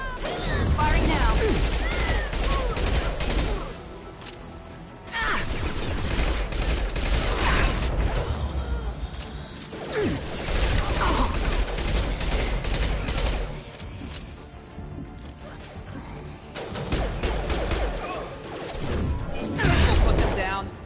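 Video game gunfire crackles in dense, loud bursts of rapid shots and impacts, separated by brief pauses, with voices speaking between the volleys.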